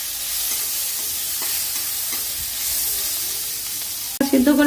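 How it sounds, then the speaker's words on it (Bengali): Green chilli, onion and tomato frying in hot oil, giving a steady, even sizzle and hiss that carries on for several seconds before a sudden clatter near the end. "আর এখন এগুলো দিব একটু কাঁচা লঙ্কা, পেঁয়াজ আর টমেটো। এটাকে একটু ভেজে নিব।"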